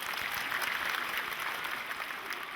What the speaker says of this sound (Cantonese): 我哋俾啲掌聲佢啦。